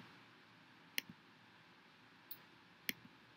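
Sharp, quiet computer mouse clicks over a faint hum, a single distinct click followed by two more spaced clicks, with no speech.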